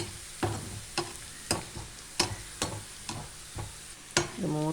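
Ginger fries in hot oil for tuna fish pickle while a spoon stirs it in regular scraping strokes about twice a second over a soft sizzle, close up and with no talking.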